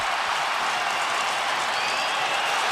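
A hockey arena crowd at a Montreal Canadiens versus Ottawa Senators game roars in approval of a fight takedown, a dense, steady wash of cheering and applause that fills the whole stretch at full volume.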